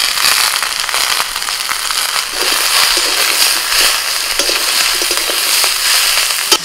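Mixed vegetables fry in a pan with chopped onion and turmeric powder just added, giving a dense, close crackling sizzle scattered with sharp pops, steady throughout and free of speech.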